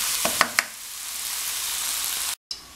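Seasoned chicken breast frying in a pan, a steady soft sizzle with a few light knocks near the start and a brief gap toward the end.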